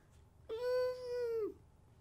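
A single clear cat meow, drawn out for about a second, close and moderately loud against a quiet room background.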